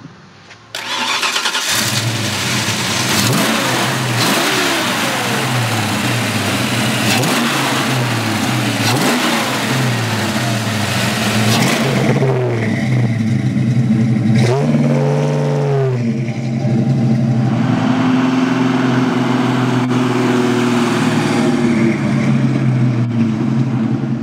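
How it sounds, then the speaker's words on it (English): A 1966 Ford Mustang Fastback restomod with a 5-liter V8 and 5-speed manual starts up and pulls away, its engine revving loudly and steadily through successive gear changes with rising and falling pitch, close and unaccompanied by talk. "66 Fastback with a 5-liter motor, 5-speed. It's a hoot to go through the gears on this thing."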